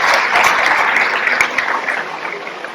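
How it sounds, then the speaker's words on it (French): Warm, dense applause from an outdoor crowd at a camper-van pardon festival in Malestroit, steady clapping that slowly tapers off. "on l'applaudit bien fort"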